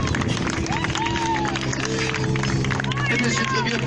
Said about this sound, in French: je vais réclamer pour notre cascadeur public un tonnerre d'applaudissements